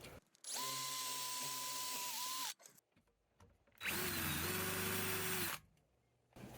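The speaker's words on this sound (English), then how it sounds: "So I just pre-drilled that." Power drill boring a pilot hole into wood for a 2.5-inch screw during a bed build in a Ford E350 van, two close, steady whining bursts of about two seconds each with a brief gap between.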